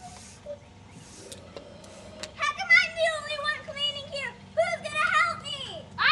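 Children making happy, busy noises around a house: high, lively kid voices chattering and squealing in the background, growing louder and more animated toward the end, with an occasional door-like knock.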